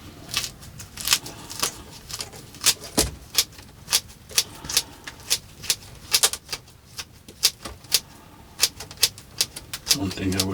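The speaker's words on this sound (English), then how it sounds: "All you can do is just kind of trim it, and just trim it flat on the bottom." Fine potentilla roots being trimmed flat across the bottom during repotting, giving a steady run of about twenty crisp, close snipping clicks in a loose rhythm, with quiet rustling between cuts.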